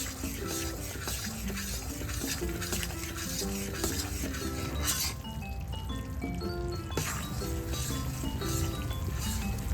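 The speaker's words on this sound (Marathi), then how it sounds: "थोडे हलवत राहायचे आहे नाहीतर खाली कढईला लागेल" Continuous scraping and clinking of a utensil stirring urad dal flour roasting in a kadhai, steady and close, with a faint sizzle underneath and no speech.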